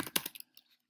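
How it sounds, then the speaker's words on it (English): A few quick keystrokes on a computer keyboard while writing JavaScript code, a short cluster of close, light clicks that fades to near silence within half a second. "I'm going to do a bit of typing here."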